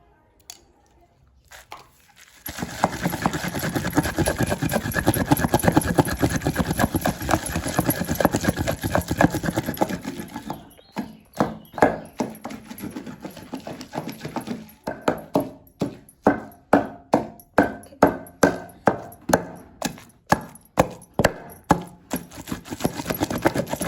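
Green chillies being pounded with salt for a chutney: a dense, steady grinding rumble at first, then a run of distinct, evenly spaced thuds that grow louder and sharper toward the end.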